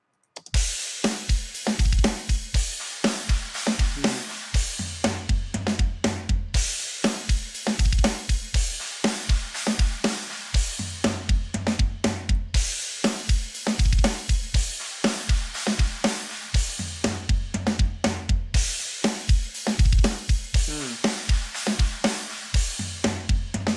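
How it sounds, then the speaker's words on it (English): A punchy kick drum thumps repeatedly in a looping mix, steady rhythmic beats recurring in phrases with brief gaps between sections. "Okay, so there's our kick sound."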